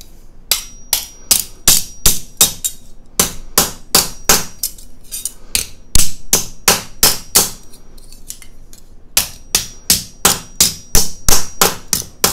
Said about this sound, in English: I'm going to take my rubber mallet or my rawhide mallet and flatten it out